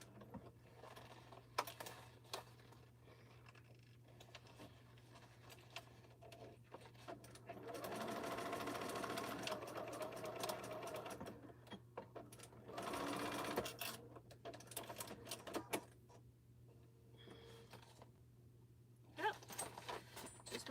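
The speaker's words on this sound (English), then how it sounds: "I'm just stitching like 1/8 of an inch from the edge to close it because I don't want to do it by hand." Sewing machine stitching close along the edge of a T-shirt quilt border, running in several bursts of steady motor whir with quiet pauses and small handling clicks between them.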